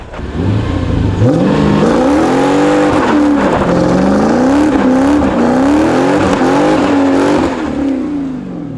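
Mercedes S500 with a manual gearbox converted for drifting, engine revving hard as it accelerates in second gear, loud and close with rising and falling pitch sweeps and a faint tire squeal.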